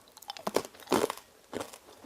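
Crunchy Korean nut snack, a traditional rice-cake-style bar with nuts and black sesame, bitten and chewed close to the mic in several sharp crunching bursts with pauses between bites.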